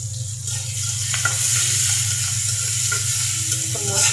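Onions frying in hot oil in a pan for a curry, a loud continuous close sizzle with occasional light stirring clicks and a steady low hum underneath.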